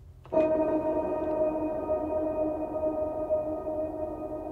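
A single bright metallic ping from a reverb pedal rings out, then sustains in a long, smooth reverb tail that slowly fades, alone with no talking.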